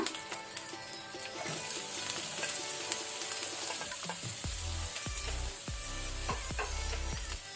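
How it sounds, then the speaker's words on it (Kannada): Onion frying in a pan on a medium flame while a sabji with curry leaves and garlic cooks, giving a soft, continuous sizzle broken by clinks and scrapes as it is stirred, with no talking. "ಈಗ ನಾವು ಈರುಳ್ಳಿಯನ್ನು ಪಿಂಕ್ ಆಗುವ ತನಕ ಫ್ರೈ ಮಾಡ್ಕೊಳ್ಳುವ ಮೀಡಿಯಂ ಫ್ಲೇಮಲ್ಲಿ"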